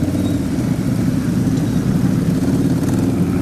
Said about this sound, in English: keep revving your motor